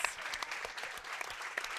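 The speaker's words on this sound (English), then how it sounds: "Clapping in the warm room for the ladies" Scattered spectators clap in the warm room after a junior women's curling championship game. The individual claps are distinct and fairly close, a brisk uneven patter from a small crowd.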